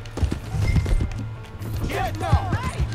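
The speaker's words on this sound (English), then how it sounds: "Hey, that's my horse." Horse hooves clip-clop in a rhythmic, fairly close patter in the video game Red Dead Redemption 2, with voices talking over the hoofbeats.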